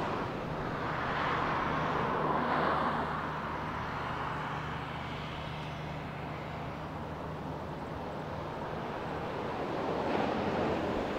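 Ocean surf and wind at Boiler Bay on the Oregon coast make a broad, continuous roar, waves swelling gently under steady wind rush against the microphone.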